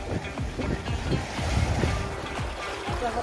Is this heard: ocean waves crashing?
yes